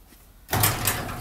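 A residential garage door begins moving on a screw drive opener, a sudden loud mechanical rumble and grinding that starts partway through and continues steadily up close.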